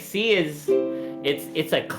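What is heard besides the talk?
No distinct noise like a dog, phone or traffic.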